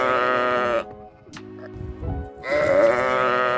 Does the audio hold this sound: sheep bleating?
yes